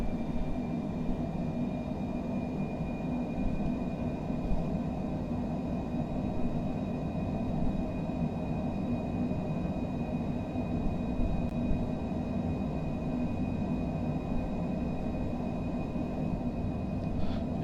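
Engines of a Cessna Citation Longitude business jet spool up on the takeoff roll, a loud, steady broadband roar with a whining tonal layer holding constant throughout, heard from inside the aircraft with no talk.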